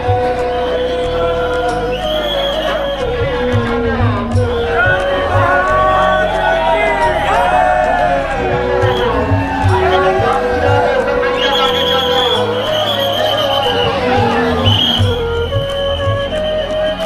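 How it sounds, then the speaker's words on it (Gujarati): A packed crowd of devotees fills Dakor temple on Janmashtami, a loud continuous hubbub of chatter with scattered shouts and whoops, while a voice speaks up close throughout. "મંદિરમાં બહુ ભીડ છે."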